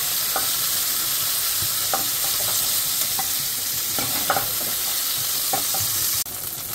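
Cauliflower florets fry in a pan of hot oil for a vegetarian amrito fulkopi dish, giving a loud, continuous close-up sizzle with scattered scraping stir sounds throughout.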